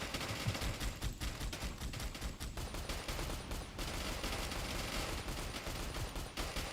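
Dense, continuous gunfire from shooting in the video game Mad Devils, rapid overlapping shots and bursts sustained at steady loudness throughout, with no voices.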